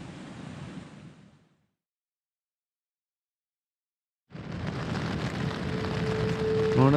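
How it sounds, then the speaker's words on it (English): Heavy rain pours down on a wild camp in the Cairngorms at Carn Etchachan, a dense, loud, steady hiss that cuts out briefly before returning even stronger. "It's been raining all night. Still crashing down now"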